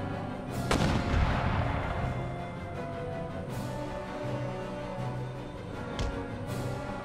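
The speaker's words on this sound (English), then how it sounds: "Why are your howitzers still firing?" Howitzer artillery fires in the Empire: Total War video game, with heavy booming shots followed by rumbling battle noise. A few more distant cannon reports come later over a dense, continuous background.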